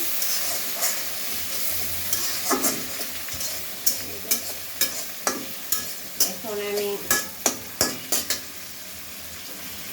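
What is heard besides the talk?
pangas fish frying with bottle gourd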